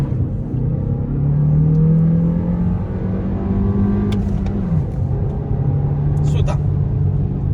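A Kia Sportage with the iMT manual gearbox pulls from a standstill toward 100 km/h, its engine rising in pitch through the gears with a brief dip at a shift, heard from inside the cabin under a steady rumble.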